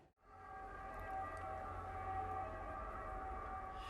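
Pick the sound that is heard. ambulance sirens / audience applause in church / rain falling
ambulance sirens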